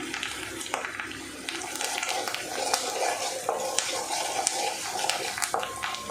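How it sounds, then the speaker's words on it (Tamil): Onions sautéing with salt in a pan for chicken gravy hiss and sizzle softly while a spoon stirs and scrapes at intervals, with a voice talking over the cooking. "இது நல்லா வதங்கட்டு இந்த வதங்கும் போதே கொஞ்சம் உப்பு சேர்த்துக்கிடுங்க"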